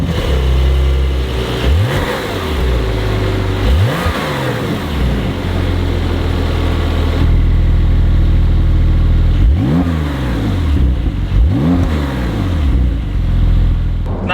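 A Porsche 992 Carrera 2S on the road, its engine loud and close, rising through several rev sweeps with gear changes, a low drone between them and no speech.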